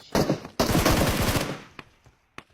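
Gunfire in the video game Polyclassic Wild: two loud, close bursts of rapid automatic fire, the second longer, followed by a few scattered single shots that fade out.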